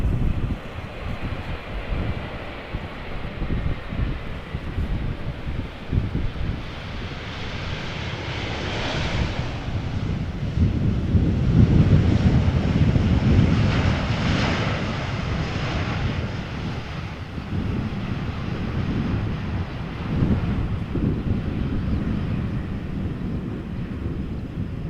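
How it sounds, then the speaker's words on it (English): A 17-year-old Boeing 777-200ER touches down in a crosswind at Amsterdam Schiphol, a broad steady jet roar swelling midway and then fading under gusting wind noise, with no talk. "now touching down a 777-200 ER, 17 years old"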